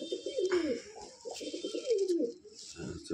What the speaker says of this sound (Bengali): এটা নর পায়রা